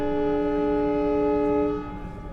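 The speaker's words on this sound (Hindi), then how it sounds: "5:25 पे ट्रेन का सिग्नल के साथ साथ ट्रेन का हॉर्न भी आ चुका है" The horn of the 14205 Ayodhya Cantt.–Delhi Express, an LHB-coach train, sounds at departure. It is a loud, sustained, steady tone held for about two seconds, then it drops off, with rumbling rail noise beneath.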